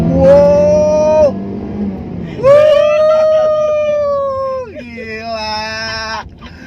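A 2005 Honda Civic VTi-S engine revs hard as VTEC engages, giving a loud, sustained high-pitched wail that climbs, holds, then drops between gear changes, with no talking.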